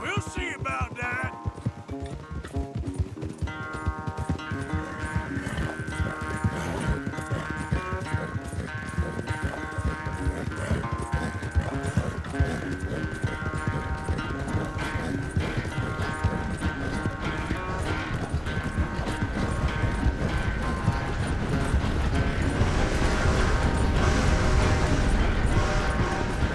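Horses gallop in a race in Red Dead Redemption 2, their rapid, continuous hoofbeats pounding under sustained musical tones and swelling louder toward the end.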